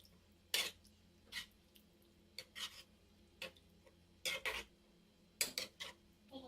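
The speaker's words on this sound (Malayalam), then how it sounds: "ഇനി നന്നായിട്ട് ഇതൊന്ന് മിക്സ് ചെയ്ത് കൊടുക്കാം." A spoon stirs egg masala gravy with added water in a pan, making faint, separate scraping clicks and taps in irregular bursts, quiet and close with no voices.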